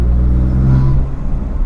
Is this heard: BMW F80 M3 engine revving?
yes